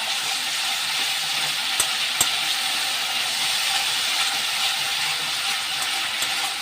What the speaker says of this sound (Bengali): এইভাবে ভালো করে নেড়ে চেড়ে কষতে হবে মশলাটাকে।